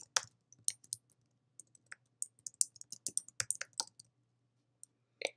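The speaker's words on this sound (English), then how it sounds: "I'm going to start typing" Typing on a computer keyboard, irregular quiet clicks of single keys and short bursts in a silent room, with pauses between runs of keystrokes.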